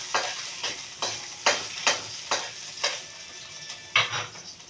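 Garlic sautéing in a hot pan, with steady frying sizzle and a series of regular scraping stirs from a spatula, about one every half second, close and fairly loud, no talking.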